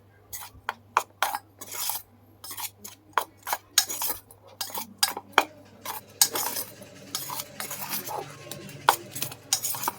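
Spoon or whisk stirring a red-tinted batter for a blooming onion in a bowl, with repeated sharp clinks and scrapes against the bowl in an irregular rhythm, close and fairly loud.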